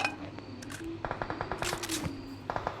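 Gunfire in a shooting video game: a rapid automatic burst of shots, then scattered single cracks, moderately loud over a low steady background hum.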